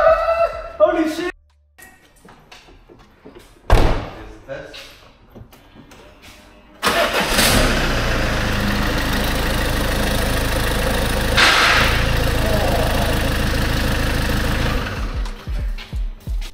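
A Citroen Relay van with a failing clutch starts up after several seconds of quiet handling sounds, then settles into a loud, steady, rough idle that runs to the end, with people talking around it.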